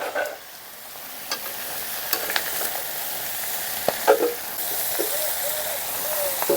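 Ridge gourd and fish head being stirred in a pan for a Bengali ghonto, with a steady sizzle of frying beneath scattered scrapes and clinks of the spatula, all close and moderately loud with no talking.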